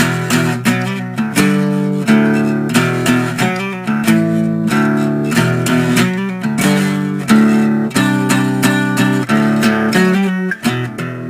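A guitar plays the chorus of a song as loud, sustained, rhythmic chords with repeated strummed attacks, steady and close, with no talking over it.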